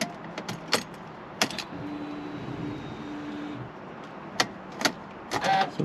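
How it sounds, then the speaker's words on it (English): A car's electric fuel pump primes before a cold start: sharp clicks from the key and relay, then a steady low whirring hum for about two seconds that stops, followed by more scattered clicks, all fairly close and quiet with no talking. "I'll prime the fuel a few times."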